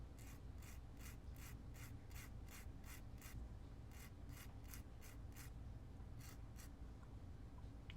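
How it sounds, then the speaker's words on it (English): Small hand file working a nub off a piece, a steady run of rasping strokes in a regular back-and-forth rhythm, close and fairly quiet over a low background hum, with no talking. "I'm just going to file it down just a hair."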